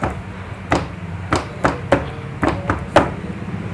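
A Honda Vario scooter gives off a rattling vibration from its rear, heard as a string of sharp knocking taps at uneven intervals over a low running rumble, close up.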